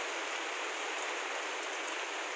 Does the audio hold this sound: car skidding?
no